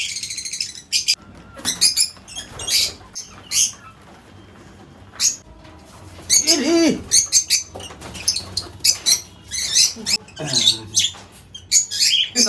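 Lovebirds in a colony give sharp, rapid chirps and squawks in bursts as they are caught one by one into a cage, with rustling and brief wing flaps between the calls.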